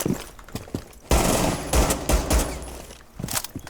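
Automatic gunfire rattles in Rainbow Six Siege, Shadow Legacy: a loud close burst of rapid shots with a few scattered single shots before and after it.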